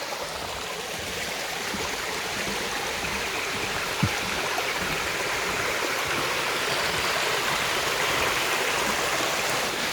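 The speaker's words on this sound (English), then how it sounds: "So this is Greens Falls. You see, there's a bit of water there." Water of Greens Falls pouring and a forest stream rushing steadily, a loud, continuous broadband wash that holds even from start to end with no voices.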